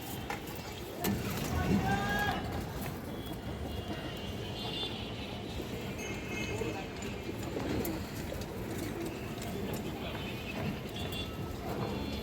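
Male silver blood pigeons cooing among other loft pigeons, a steady low murmur of coos and bird calls with scattered clattering and faint background voices throughout.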